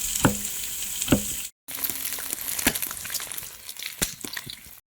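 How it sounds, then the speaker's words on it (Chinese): Fatty meat sizzling and frying in a hot wok for a tomato offal hotpot, with steady crackling punctuated by a few sharp stirring clacks and a brief cut in the sound. "肉给炒出来啊。"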